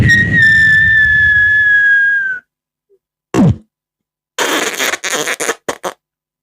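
A human voice mimics a firework: a long, steady whistling tone, a short pop after a pause, then a cluster of loud, crackling bursts.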